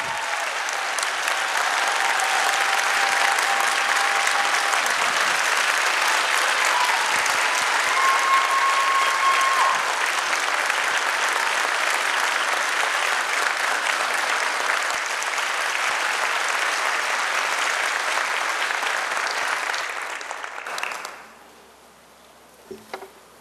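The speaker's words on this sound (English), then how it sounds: "Please give them another big round of applause." Big round of applause for the school-level teachers of the year, a large crowd clapping loudly and steadily for about twenty seconds before it fades out quickly near the end.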